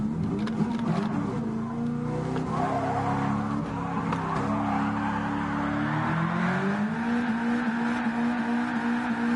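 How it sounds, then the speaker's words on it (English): A car does burnouts in the Gran Turismo racing game, played in VR with a G29 wheel, with a continuous tire squeal and droning engine running for several seconds at an even level. "You can still do burnouts."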